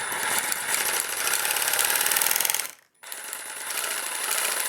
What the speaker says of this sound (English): get yourself a Sawzall,